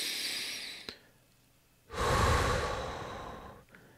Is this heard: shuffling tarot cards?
no